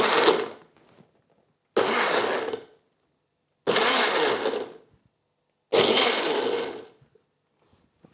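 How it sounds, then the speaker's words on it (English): A TENKER 850W personal blender pulses frozen fruit and vegetables with milk in four loud, close bursts of about a second each, grinding and rattling, with silent pauses between. "We're going to start off with pulsing this first so we could break up the fruit and veg."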